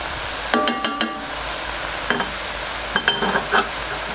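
Garlic tossed into a soup pot with seasoned meat, sage and thyme, giving a steady sizzle broken by clusters of sharp spoon-on-pot clinks as it is stirred, close and clear.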